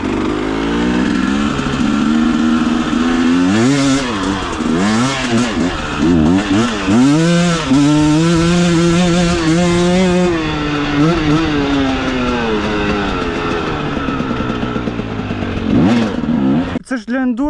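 A two-stroke KOVI 300 Pro enduro motorcycle engine revs hard and repeatedly, its pitch climbing and falling in loud surges before cutting off near the end.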